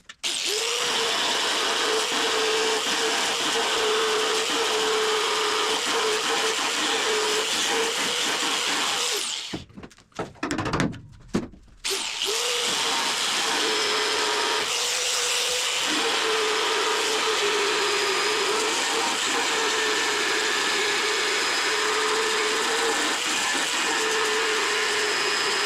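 A power tool grinds steadily through spot welds on the thin rocker panel metal of a Datsun 280z, a loud continuous whirring buzz that breaks off briefly midway with a few stuttering bursts before resuming.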